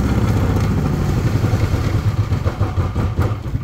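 A portable generator engine runs steadily and loud, a close, rumbling clatter that holds throughout without winding down.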